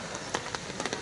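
Heavy downpour heard from inside a camper van parked at the Toyama Prefectural Office: a dense, steady hiss of rain with a few sharper bursts of drumming, close and continuous, with no voices.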